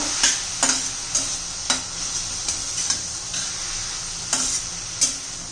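Fenugreek leaves cook in a pan for a spicy methi thecha, with a steady low sizzle broken by sharp, evenly spaced clicks and taps of a spatula against the pan, close and without talk.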